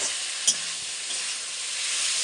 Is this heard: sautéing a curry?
yes